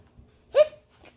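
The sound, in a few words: storyteller imitating a hiccup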